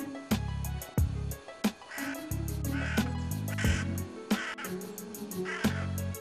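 A crow caws in a steady series of harsh, loud calls, repeating roughly every half second. Background music plays beneath it.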